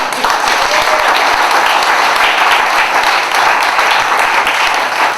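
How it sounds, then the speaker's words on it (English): Audience at a live monologue show gives the actors a loud, sustained round of applause, dense clapping from many hands filling the room throughout. "I want to thank all the actors from the 30-second set and the first set. Give them a round of applause."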